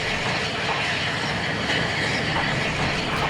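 A long train rolls steadily past a level crossing in St Bees, a continuous loud rumble with a faint clickety-clack of wheels on rail joints and a hint of hiss throughout.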